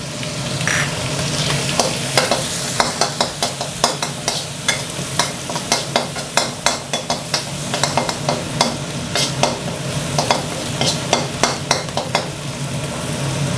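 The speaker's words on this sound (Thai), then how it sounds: "จากนั้นเราก็จะใส่กระเทียม พริกนะครับ แล้วก็ใบมะกรูดฉีกนะครับ ลงไปผัดให้หอมสักครู่หนึ่งนะครับ" Garlic, chili and torn kaffir lime leaves stir-fry loudly in a hot wok for pad kaphrao with minced pork. A spatula scrapes and clacks in a quick, regular rhythm over the constant sizzle, and no one talks.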